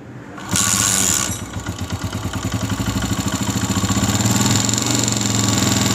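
Honda CG125 2022 motorcycle engine with a sound problem, kicked over with a quick rising burst, then settling into a loud, close, steady rhythmic idle with a clattering pulse.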